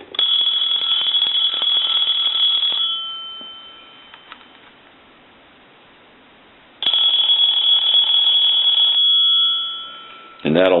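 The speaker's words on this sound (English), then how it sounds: "Go ahead and ring it" A Radio Shack clear Trimline telephone rings loudly in two long electronic trills separated by a pause of near silence, close and clear with no talk over them.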